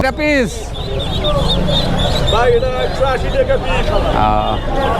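Local chickens cluck and squawk at a busy village market, bursts of fowl calls rising over steady crowd chatter and nearby talking.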